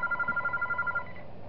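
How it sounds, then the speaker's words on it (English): A telephone rings in the horror video game Those Nights At Wario's 3, a rapid electronic trill of repeated short pulses that fills the first second and then stops, leaving a faint hum behind, with no talking. "Okay, I gotta hang up the phone because Mario's there."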